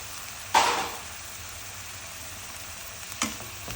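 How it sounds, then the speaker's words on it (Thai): Bean sprouts and tofu stir-fried in a pan, a constant close sizzle with two sharp scraping stirs of the spatula, one loud and one softer. "ผัดให้ถั่วงอกมันสุกๆนิดนึงนะ"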